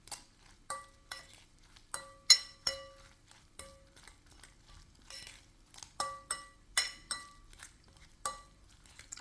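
Utensil clinking and knocking against a pot or bowl while celery, onion and bell pepper are mixed together for beef thieboudienne, a Senegalese rice dish; about a dozen sharp metallic taps in uneven bursts, close and clear, with no talking.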